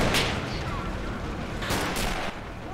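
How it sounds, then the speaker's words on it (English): Artillery and gunfire in the war strategy game Men of War: Assault Squad 2, a dense crackle of distant shots with a few sharper blasts over a rumbling battlefield background. "Are you using artillery on him?"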